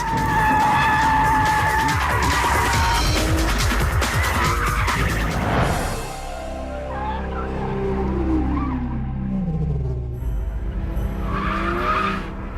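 A Porsche GT3 sports car's engine revs hard while tires squeal and screech as the car slides sideways, then the engine note drops away and the squealing returns briefly.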